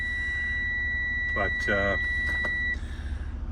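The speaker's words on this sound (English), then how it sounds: "there's the beeping that would normally be on because the brake is out" A parked RV sounds a steady two-tone electronic warning beep for the brake, continuous and clear for nearly three seconds before cutting off, with the engine idling low underneath and a voice speaking briefly.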